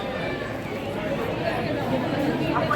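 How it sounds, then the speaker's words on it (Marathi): Crowd chatter at an Ambedkar Jayanti gathering where people honour portraits of Buddha and Ambedkar: a steady, dense murmur of many voices nearby, with no single voice standing out. "एवढी गर्दी आहे"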